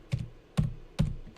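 Typing on a computer keyboard while setting up an SSH login to a virtual machine: four crisp, close key clacks spaced roughly evenly apart, with no talk.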